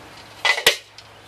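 A child sets the lid onto a small toy cooking pot, two quick bright clatters close together followed by a faint tap, with no talking.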